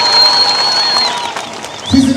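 A crowd at a municipal gathering in Ubungo claps, a dense, steady patter that thins toward the end, with a sustained high ringing tone over it.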